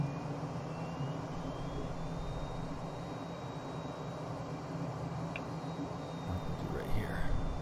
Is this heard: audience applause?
no